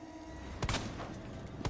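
A few sharp gunshots in the Resident Evil 2 Remake, about four in quick succession, loud and close, with two stronger cracks near the start and another at the end over a steady game ambience.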